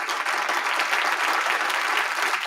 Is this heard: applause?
yes